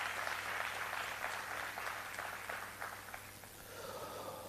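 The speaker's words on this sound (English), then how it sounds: "So give yourselves a round of applause." Workshop and expo audience giving themselves a round of applause, a fairly quiet patter of clapping that thins out over a few seconds, with a low steady hum beneath.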